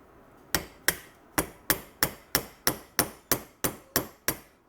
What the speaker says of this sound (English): get yourself a hammer